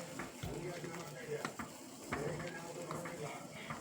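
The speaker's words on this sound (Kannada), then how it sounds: "ಸಣ್ಣ ಉರಿಲೇ ಕುದಿಸ್ಬೇಕು." Homemade hair oil with hibiscus and aloe vera simmering on a low flame, giving a soft steady bubbling sizzle with occasional stirring scrapes, faint and close throughout.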